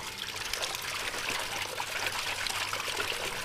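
Running water trickles and splashes steadily as betel leaves are rinsed, a soft, close, continuous wash with no talking.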